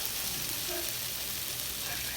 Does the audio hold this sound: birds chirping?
no